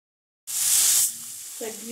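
Vegetables for khichdi hit a hot pan with a sudden loud hiss that settles into a steady, softer sizzle. A brief voice-like hum is heard at the end.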